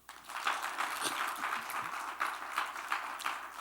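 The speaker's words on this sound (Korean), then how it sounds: "박수 한번 쳐줘요." A church congregation at a New Year blessing revival service applauds, a steady wash of many hands clapping for several seconds without any talk on top.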